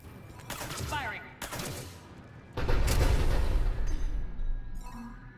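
A ship's cannon firing in the video game Mass Effect 3, heavy booming blasts arriving after radio-style chatter, loud and close with a sustained rumbling barrage in the second half.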